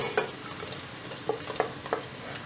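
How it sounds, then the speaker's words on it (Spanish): Chorizo and garlic fry in a pan with softened onion for keto pork trotters in tomato, a steady soft sizzle broken by the scrape and clack of stirring. "así ya se va friendo un poco el chorizo, el ajito"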